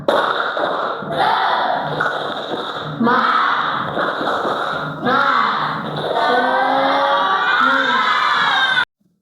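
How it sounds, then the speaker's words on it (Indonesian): A classroom group of students loudly chants and claps the rhythmic 'tepuk semangat' spirit clap in several energetic bursts separated by short pauses, with thumping claps under the voices. "Ya, tepuk semangat. Ya, coba kita mulai. Tepuk semangat."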